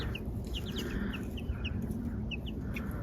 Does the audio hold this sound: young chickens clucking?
yes